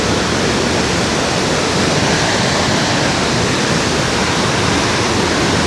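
The Li Phi waterfall on the Mekong river in southern Laos roars as a loud, constant, close wash of rushing water, with no talking.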